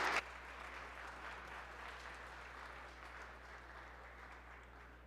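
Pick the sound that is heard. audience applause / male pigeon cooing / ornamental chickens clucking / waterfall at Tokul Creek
audience applause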